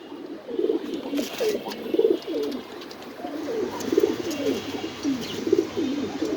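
Pigeons at a farm coo in repeated low, throaty phrases, close and moderately loud, forming a continuous rhythmic burble with a few faint higher chirps.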